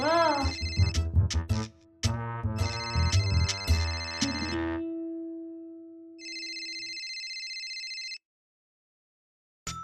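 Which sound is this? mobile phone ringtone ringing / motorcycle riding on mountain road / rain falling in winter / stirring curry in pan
mobile phone ringtone ringing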